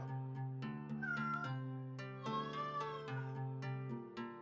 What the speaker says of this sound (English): when I heard the cat the first time